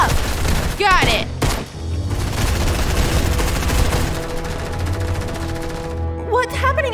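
Rapid bursts of Fortnite gunfire rattle almost continuously, loud and close, with thuds mixed in and voices talking over parts of the barrage.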